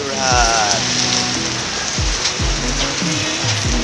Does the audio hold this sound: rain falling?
yes